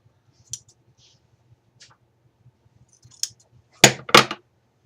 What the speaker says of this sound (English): Cut this off a little more evenly.